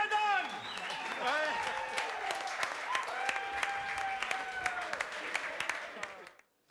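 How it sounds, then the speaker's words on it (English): A studio audience at a televised political panel show claps for Peter Dunne. The applause is sustained and crisp while a voice talks over it, then fades out at the end. "Round of applause, Peter Dunne."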